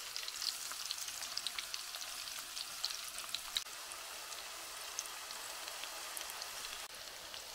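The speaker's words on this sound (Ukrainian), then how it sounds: "Щоб м'ясо приготувалось та цибуля, я смажу на маленькому вогні" Meat patties and chopped onion frying over low heat in a pan, giving a steady, soft sizzle with scattered small pops and crackles throughout, close by and fairly quiet, with no talking.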